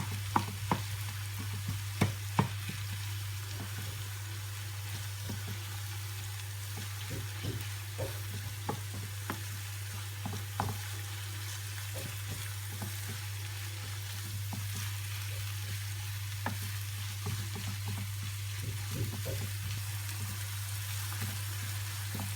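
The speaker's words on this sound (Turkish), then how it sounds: "Kavrulan soğanlarımın içerisine 250 gram kıymamı ilave ediyorum. Ve kavurmaya devam ediyorum." Ground beef, 250 grams, frying with sautéed onions in a pan, a low continuous sizzle with scattered scrapes and taps of stirring over a steady hum, no voices.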